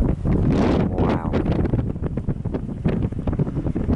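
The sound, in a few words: strong wind on the microphone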